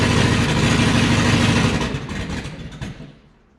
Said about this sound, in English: Doesn't want to idle.